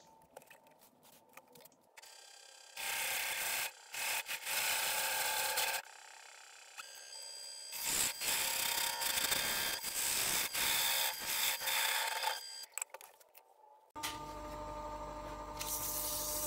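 A wood turning tool cuts a groove into a spinning wooden hourglass piece on a lathe, giving bursts of harsh scraping and hissing that start and stop in several close, loud passes separated by brief pauses.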